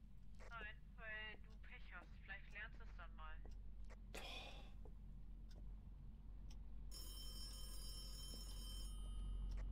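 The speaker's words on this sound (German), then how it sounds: "Telefon." A telephone rings in the ghost-hunting game Phasmophobia: after a few seconds of voices and a breath, a steady, moderately loud ringing tone starts and continues to the end over a low background hum.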